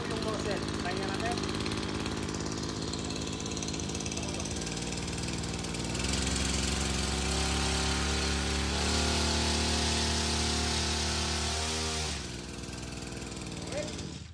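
An engine-powered sprayer with two guns and three nozzles runs continuously, a loud mechanical rattle and hum that grows heavier partway through and then eases off, with people talking over it.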